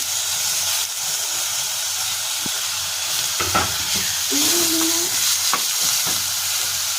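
Onion and capsicum frying in a pan for a capsicum egg bhurji, a steady close sizzle and hiss with occasional stirring clinks and scrapes and a brief higher squeak.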